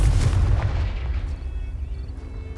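A Confringo blasting spell in Hogwarts Legacy bursts with a heavy, rumbling explosion that booms loudly at first and then rolls away into a fading low roar, with no talk.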